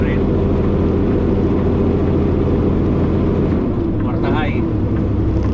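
A truck engine drones steadily at up to 1800 RPM in tenth gear, with a deep constant rumble that sags slightly toward the end while a brief voice rises over it.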